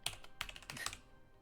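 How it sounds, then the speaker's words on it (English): Keys clatter on a computer keyboard in a few quick, close bursts of typing during a Europa Universalis 4 game session, with no talk over them. "Okay, I know start typing. Start typing."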